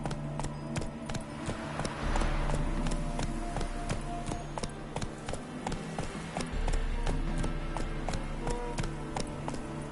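Roach, the horse from the video game The Witcher 3, gallops with a steady, rapid clip-clop of hooves, close and loud over a low droning music bed.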